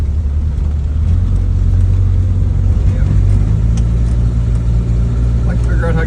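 A 1974 Ford Mustang drones steadily while driving, a loud low engine hum with a slight rise in pitch partway through, close and continuous, with faint rattles and no voices.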